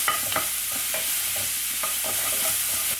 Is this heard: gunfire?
no